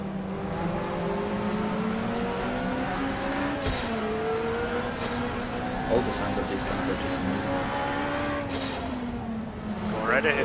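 A 1970s DRM racing car engine in the sim racing game Assetto Corsa drones steadily at high revs, its pitch shifting as it changes gear, with a voice talking over it.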